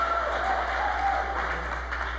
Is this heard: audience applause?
yes